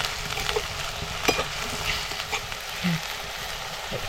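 Chopped tomatoes sizzle and fry with softened onion in a pan for Konkani home cooking, a soft steady crackle with occasional louder pops and spatters, fairly close with no talking.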